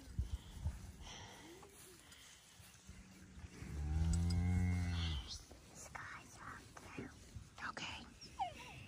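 Calves and cattle on a farm give one long, loud, close moo in the middle, with soft whispering and shuffling around it before and after.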